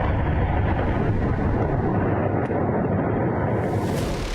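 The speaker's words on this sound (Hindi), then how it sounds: "जोरदार धमाके हुए, आग लगी, धुआं उठा और पूरा इलाका सहम गया।" Explosions and fire during a US midnight strike on Iran, heard as a dense, continuous, loud roaring rumble that fills the whole stretch without clear separate blasts and with no voices.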